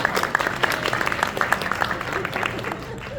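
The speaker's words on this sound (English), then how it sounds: "Give yourselves another round of applause." An audience applauds in a steady wash of clapping, with sharper individual claps standing out near the start before it slowly thins.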